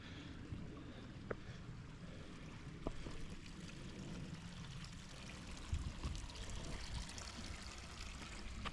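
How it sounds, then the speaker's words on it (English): A creek flows steadily beside a hiking trail, a soft, continuous trickle and rush of water heard close by with a few faint ticks and no talking. "Who doesn't love the sound of a creek?"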